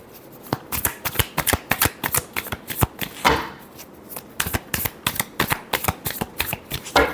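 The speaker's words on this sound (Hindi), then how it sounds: "last shuffle" Tarot deck being shuffled by hand, a fast run of crisp riffling card flicks repeating in bursts with short pauses, close and clear with no talk.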